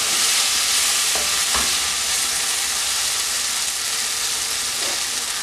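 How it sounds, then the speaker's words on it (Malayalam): Fried okra is stirred into softened tomatoes in a hot pan for a vendakka curry, giving a loud, steady sizzle throughout with occasional soft scrapes of the spoon close by. "ഇതിലേക്ക് നമ്മളിവിടെ ഫ്രൈ ചെയ്ത് വെച്ചിരിക്കുന്ന വെണ്ടക്ക ചേർത്ത് നന്നായിട്ട് മിക്സാക്കി എടുക്കാം"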